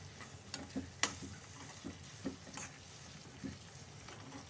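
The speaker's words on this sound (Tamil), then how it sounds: "இப்போ நீங்கள் நல்லா மெசிச்சு விட்டிங்கன்னா இது மாதிரி வந்துடும்" Tomato pickle is mashed and mixed in a pan, giving soft, quiet stirring and squelching with a few scattered clicks and scrapes of the utensil against the pan, all faint.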